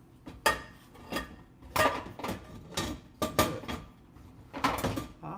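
Dishes and cutlery clatter and clink in a series of irregular knocks and rattles, close by, as items are shifted around inside a dishwasher.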